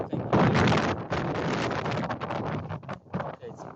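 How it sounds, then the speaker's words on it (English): Strong outdoor wind buffeting a microphone at the ancient Punic harbours and Tophet site in Carthage, a loud broadband rumble that gusts and dips throughout with no clear talk over it. "it's a little bit windy"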